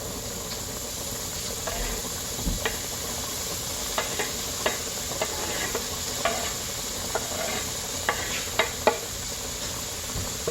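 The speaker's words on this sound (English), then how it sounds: "I'm going to take these vegetables and we're going to saute them in just a touch of the bacon grease." Onions and peppers sauté in a touch of bacon grease, a soft steady sizzle broken by scattered stirring clicks and scrapes of a utensil in the pan.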